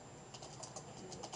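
Light typing on a computer keyboard while writing Java code, a quick string of faint, soft key clicks close by, with no talking.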